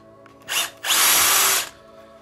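A power drill fitted with a bit runs in a short burst, then bores into spruce wood in a longer, loud, whining spin before stopping, all close by.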